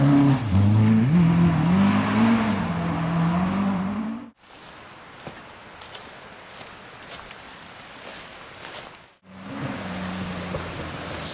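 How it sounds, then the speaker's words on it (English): Rally cars rush past at speed on a Malton Forest stage, with a loud engine pass, a sudden cut to quieter gravel and ambient rumble, then another car approaching loudly near the end. "So I'm gonna show you some footage of the cars coming by now."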